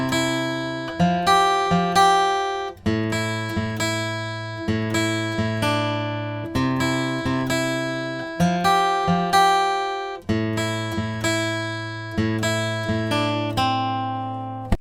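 A single guitar plays a song's verse as a steady run of clear, ringing plucked notes and chords in an even rhythm, with no voice over it.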